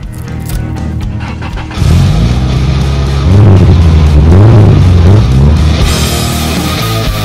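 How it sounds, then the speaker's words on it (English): A 1998 Subaru Legacy GT with a 2.5-liter dual overhead cam four-cylinder, aftermarket intake and lightweight crank pulley starts up and revs loudly nearby, its pitch rising and falling through several throttle blips before settling into a steady idle. "this is my 1998 Subaru Legacy GT."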